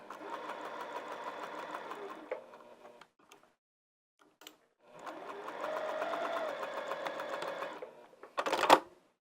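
A sewing machine stitches a dog kerchief in two runs of fast, steady needle chatter with a quiet pause between, ending in a brief louder clatter.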